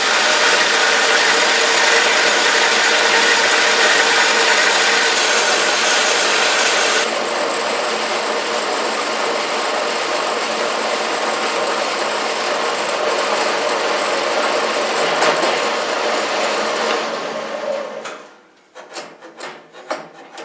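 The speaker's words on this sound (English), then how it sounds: "as the saw blade was coming through the last little bit of the cut in the bottom" A saw blade grinds steadily through a slot in a steel overarm sleeve, loud and continuous for most of the stretch, with the tone shifting partway and the cut ending in a few scattered clicks and knocks.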